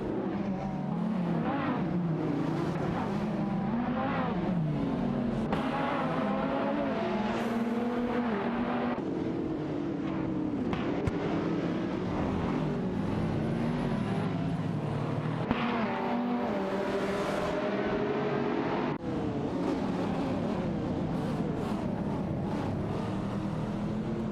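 Several race cars battle for position in an AI racing video game, engines revving and swelling as cars pass one another, a steady loud roar with repeated surges and no voices.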